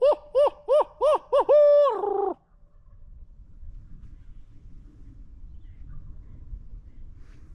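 Wild turkeys gobble in a rapid series of loud, close, warbling bursts, five or six in quick rhythm ending in one longer call, followed by quiet outdoor ambience during pre-season scouting.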